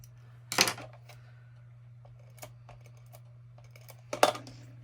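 Scissors trim a paper piece for a collage in a quiet room, with a few short crisp snipping bursts spaced apart and near.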